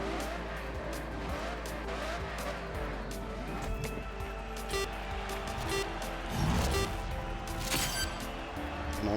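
Race car engines droning steadily around an oval in the racing game GRID Legends, a loud continuous roar with a rising tire squeal near the end.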